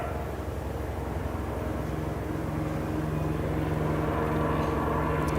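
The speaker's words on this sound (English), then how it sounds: "I have a plane going overhead." A plane drones overhead outdoors as a steady, broad low rumble that holds for several seconds and swells slightly toward the end, with no voices over it.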